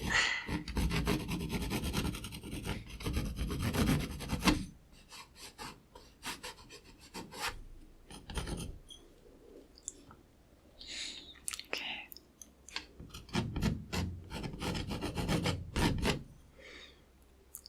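Scratchy pencil sketching on paper for a portrait drawing, a steady rasping rub in bursts that swell and fade, close and fairly soft, with brief pauses between strokes.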